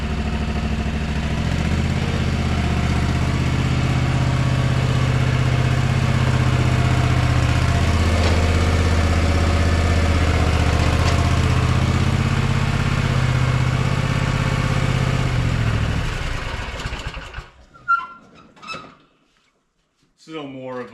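A Gravely ZT HD-48 zero-turn mower with a Kawasaki FR691V engine runs steadily and loud up close for most of the stretch, then cuts off abruptly, leaving a few faint clunks and clicks.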